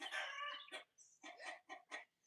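A backyard coop rooster lets out a long, harsh call up close, followed by a string of shorter, clipped squawks with brief gaps between them.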